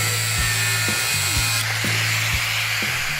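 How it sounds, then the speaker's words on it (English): A power tool cuts off overly long bolts with a continuous close, loud whine that dips and recovers in pitch several times as it bites into the metal. "the bolts are a little long, so I cut them off here."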